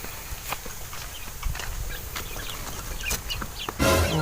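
Chicks and native chickens cluck and peep in a large coop, with scattered short calls and light scratching throughout, growing louder near the end.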